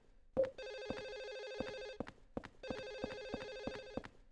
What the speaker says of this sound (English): Oh my god, the phone sound is driving me insane.